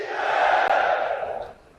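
A large crowd at an outdoor public event in Madhya Pradesh shouts back in unison in response to a patriotic Bharat Mata chant, a loud sustained roar lasting over a second before fading out.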